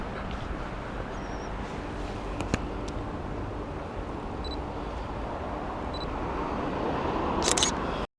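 A camera shutter clicks once or twice, brief and fairly quiet, as a picture of a lorry is taken outdoors against steady road and traffic noise.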